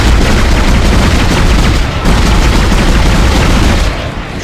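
A big gun firing in the sci-fi horror game Dead Space, loud and dense, with heavy booming blasts rolling continuously into a sustained roar that dips briefly and tails off at the end.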